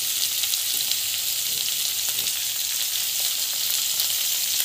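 Sliced onion and green chilli fry in a pan with a dense, even sizzle that holds steady throughout, close and fairly loud, with no talking.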